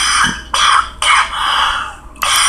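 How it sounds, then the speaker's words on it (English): Three loud, harsh coughs in close succession, each a sharp burst trailing off, with a fourth starting at the end; close and prominent. "they are going to make me cough."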